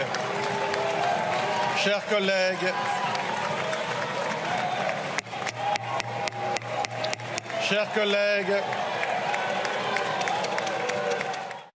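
Lawmakers in the French National Assembly applauding, a dense clatter of clapping in the chamber mixed with desk knocks and voices, rising in bursts.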